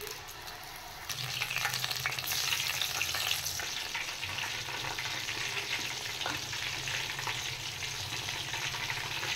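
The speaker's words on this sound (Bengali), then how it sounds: "এদিকে তেল গরম হয়ে গেছে, এবার আমি একটা একটা করে ভেজে নেব।" Vegetable fritters frying one by one in hot oil, a steady loud sizzle and crackle that swells as more batter goes in and continues unbroken, close up with no talking.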